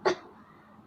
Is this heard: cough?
yes